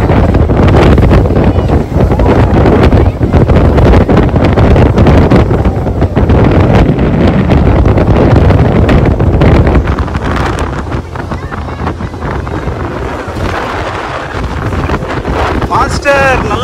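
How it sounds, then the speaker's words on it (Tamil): A speedboat ride on a lake park outing, with heavy wind buffeting the microphone and a loud rushing engine and water roar throughout, easing slightly near the end, while people's voices come through faintly. "ஸ்பீட் போட் அப்படின்றதுனால அவர் ஆட்டி ஆட்டி ஓட்டினாருங்க."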